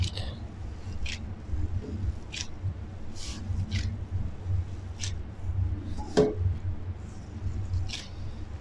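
Mushroom stuffing mixed with ground beef by gloved hand, giving soft, irregular squishing and smacking sounds up close over a low hum, with no talking.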